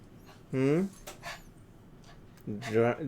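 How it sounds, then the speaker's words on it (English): A dog in a Skyrim game session lets out two loud, harmonic barks or yelps, one early and one near the end, with quieter breathy sounds between and a faint background hum. "Dramatic barking to kind of warn me you're coming up here to beg for food?"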